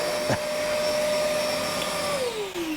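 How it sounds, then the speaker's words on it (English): A Milwaukee M18 Fuel 6-gallon wet/dry vacuum roars steadily at close range, with a brief clack of a stone being sucked up early on. Near the end its motor pitch drops as it winds down. "The vacuum had no problem picking up any of those stones, even the maximum size."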